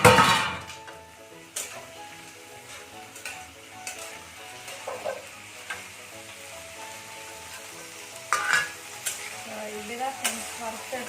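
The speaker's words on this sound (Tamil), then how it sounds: "டைரெக்டாக இந்த காய் எண்ணெயில் போட்டுட வேண்டியதுதான்." A vegetable dropped straight into hot oil in a home kitchen fries with a steady, fairly loud sizzle, punctuated by occasional clinks and scrapes of a utensil against the pan.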